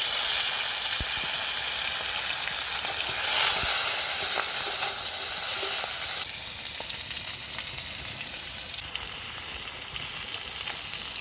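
Crab frying in a pan gives a loud, steady, broad hiss of sizzling oil that drops slightly in level partway through and then continues evenly, heard up close with no speech.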